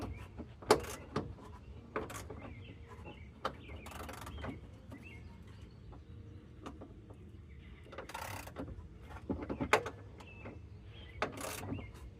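The top bolt of a rear shock on a 2002–2009 Chevy Trailblazer is snugged up with a wrench: quiet, close metallic clicks and a few short rasping bursts over a faint background, with no talking.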